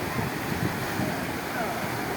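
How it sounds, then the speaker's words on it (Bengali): Strong wind blows steadily across a seashore at dawn at Digha, with waves breaking against boulders at ebb tide, forming a constant loud broadband roar with no distinct gusts. "সেই সঙ্গে প্রচুর পরিমাণে হাওয়া দিচ্ছে"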